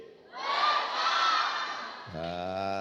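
An audience at an indoor gathering shouts a group welcome cheer in unison, one loud, ragged burst of many voices lasting about two seconds, followed by a single sustained voice.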